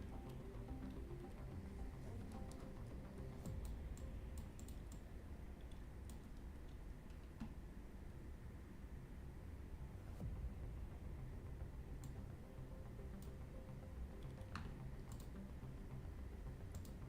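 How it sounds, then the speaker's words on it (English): Quiet, irregular clicking of keys on a computer keyboard under faint background hiss, going on steadily throughout. "You hear me tipping and typing?"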